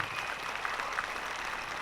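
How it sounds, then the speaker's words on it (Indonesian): Audience applause for performing artists at the closing of the Bali Arts Festival, a steady, fairly faint wash of clapping lasting the whole stretch with no clear voices. "Tepuk tangan para seniman."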